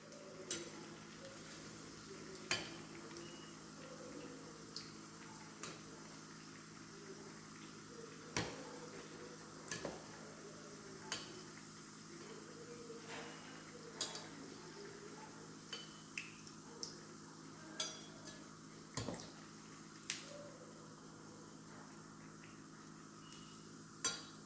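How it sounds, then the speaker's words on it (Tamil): Paruppu vadai, mint-flecked lentil fritters, deep-fry in oil with a faint, steady bubbling sizzle broken by scattered sharp ticks and clinks; quiet and close, with no talk. "இந்த மாதிரி பொரிச்சு எடுக்கணுங்க."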